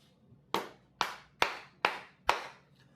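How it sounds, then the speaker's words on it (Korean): Five sharp hand claps, evenly spaced about half a second apart, each close and crisp with a short decaying tail, against a quiet background. "야, 박수 다섯 번이다. 박수 다섯 번."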